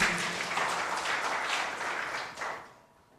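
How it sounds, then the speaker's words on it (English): A large crowd at the national release of primary leaving exam results applauds the examinations board team, with loud, sustained clapping that swells once more and then quickly dies away at the end. "A bigger round of applause to the UNEB team"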